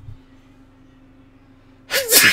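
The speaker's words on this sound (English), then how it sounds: "As you can tell, I'm still sneezing" A single sharp human sneeze bursts out loudly near the end after a stretch of near silence with a faint hum.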